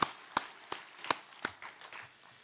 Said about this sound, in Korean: 박수로 하나님께 드리겠습니다